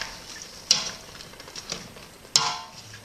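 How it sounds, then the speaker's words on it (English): A masher works buttered potatoes in a pot for a fish pie, with soft squelching stirs broken by two sharp clacks of metal against the pan. "And get mashing."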